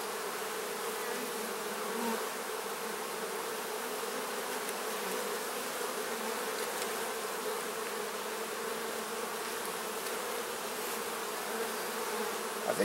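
Honey bees buzz in an open hive during an inspection, a steady, dense drone of many wings close by that holds for the whole stretch without speech.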